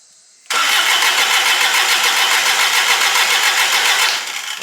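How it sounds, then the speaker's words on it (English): A diesel engine with glow plugs cranks and catches after a short quiet start, then runs loud and steady close by before settling slightly at the end. "It seems like it's starting better."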